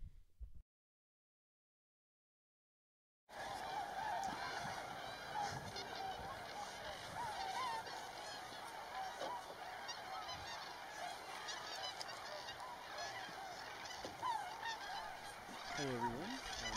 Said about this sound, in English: A few quick facts actually now about snow geese.